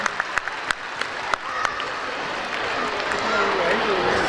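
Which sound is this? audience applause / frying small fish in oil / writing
audience applause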